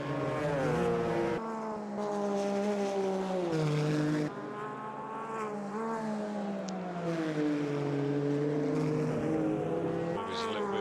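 A pink Porsche and a Martini-liveried Porsche racing against a Mercedes in GT1 at Brands Hatch, engines droning steadily with rising and falling pitch as they pass, shifting gears mid-run, loud and continuous.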